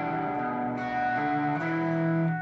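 Short electric guitar riff, a few clean sustained notes moving along the strings, close and clear with no voice.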